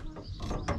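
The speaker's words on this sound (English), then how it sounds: "here's the adjustment for the up and down" A short mechanical creak and ratcheting scrape as the up-and-down tilt of an outdoor TV wall bracket is adjusted, close and fairly quiet.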